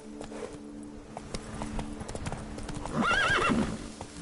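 A horse in Witcher 3: Blood and Wine clip-clops along at a steady gait, then gives a loud whinny near the end, hoofbeats close and clear over a quiet game background.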